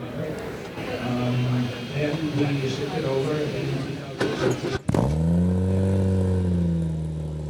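People chatter, then a 1967 Jaguar E-Type Series 1 4.2 engine cranks and fires up with a sudden burst, settling into a deep, rumbling idle close by at a car show.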